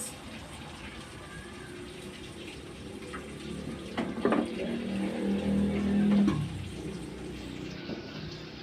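Running tap water splashes over a milkfish being rinsed in a kitchen after deboning. The steady flow turns louder and more gurgling for a couple of seconds, with faint voices around it.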